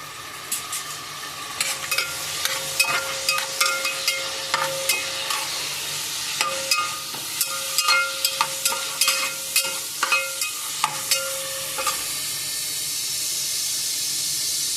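Ginger and green chilies fry loudly in hot oil, a steady close sizzle and hiss peppered with rapid crackles and pops, with a few light stirring scrapes and no talking.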